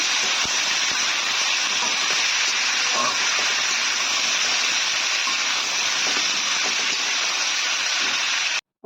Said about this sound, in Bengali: এবার সবজিগুলোকে কিছুক্ষণ ভেজে কষিয়ে নেবো